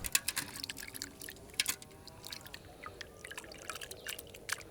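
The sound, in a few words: washing deveined raw prawns in water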